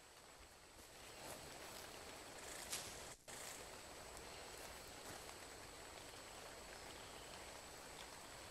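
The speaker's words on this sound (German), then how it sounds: "Ach, jetzt regnet es, guck mal." Rain falls on a beach in the ARK survival video game, a steady soft hiss of drops that runs the whole time at low level, with one brief break partway through and no talk.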